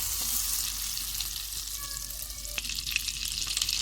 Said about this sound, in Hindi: जब बटर इस तरह से गर्म हो जाएगा तो चूल्हा बंद कर देंगे